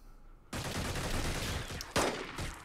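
Gunfire bursts out in the tactical game Xenonauts, a sudden sustained volley of shots followed by a sharp louder crack and a fading tail.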